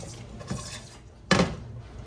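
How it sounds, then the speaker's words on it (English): Pasta goes into a kitchen pan with soft shuffling and scraping, then one sharp, close metallic clatter as it lands, followed by a fading rattle. "Now we're gonna put the other half of the pasta in the pan."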